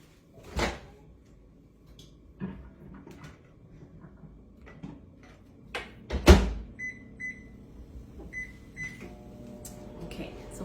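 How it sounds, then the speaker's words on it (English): A kitchen microwave oven runs with a faint low hum, punctuated by clunks of a door or cupboard and a few short beeps, with no talking. "so 5 minutes in the microwave"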